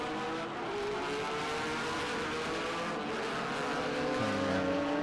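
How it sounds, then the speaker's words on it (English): Race cars driving past at Sonoma Raceway during an endurance event, several engines droning and shifting pitch in a steady overlapping roar, loud and continuous with no voices. "PSSA cars are really going to whistle down through those S's, aren't they?"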